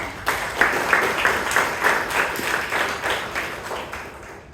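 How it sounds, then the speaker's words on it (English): Members at a Bangalore Toastmasters club meeting give a round of applause, moderately loud steady clapping with a pulsing rhythm that tapers off toward the end. "big round of applause to the table topic masters"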